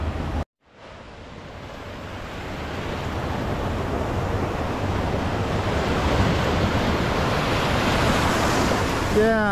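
Ocean surf at Hampton Beach, New Hampshire rolls in as a continuous, fairly loud wash of breaking waves, mixed with wind buffeting the microphone after a brief dropout near the start.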